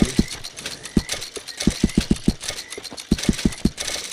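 Horse hooves clip-clop at an uneven walking rhythm in a video game, about a dozen sharp thuds over a soft ambient bed, close and fairly loud.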